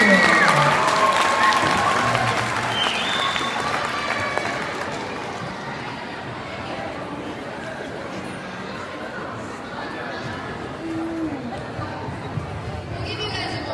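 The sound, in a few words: applause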